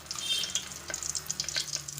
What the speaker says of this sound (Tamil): இதில் வந்து பட்டை, கிராம்பு, ஏலக்காய், ஒரு பிரிஞ்சி இலை முதல்ல தாளிச்சிடலாம்.